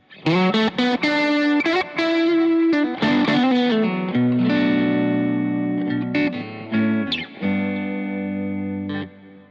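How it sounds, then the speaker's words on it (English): An overdriven electric guitar on a Stratocaster bridge pickup with a passive mid boost plays a riff of picked notes and sustained chords, thick and mid-heavy, ringing out loud with no talking. "It definitely has a sort of a thicker, slightly meatier sound to that bridge"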